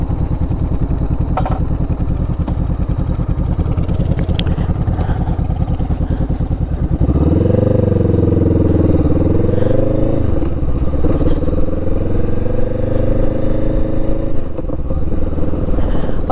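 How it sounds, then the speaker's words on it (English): A motorcycle fitted with a new aftermarket exhaust runs steadily, then the engine note rises loud and close as it accelerates and holds a throaty drone, with some wind and clatter mixed in. "I absolutely love this exhaust. I'm so happy to have a little bit of noise."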